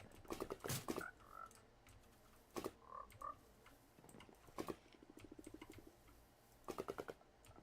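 Frogs croaking in the Hypixel Skyblock video game, a series of short, clicky croak bursts repeating at intervals, fairly faint, with no talking over them.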